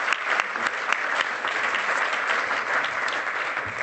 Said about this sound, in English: Can we get another round of applause for everybody on the stage?